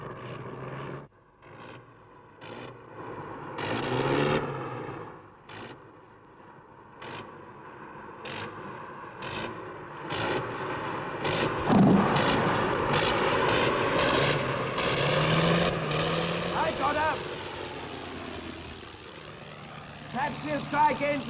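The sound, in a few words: aeroplane flying in to land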